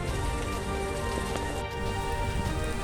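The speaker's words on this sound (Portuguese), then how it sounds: "Muita chuva." Steady rain pours down during a 10 km training run through city streets, a dense continuous patter on the ground that holds even and loud throughout with no voices.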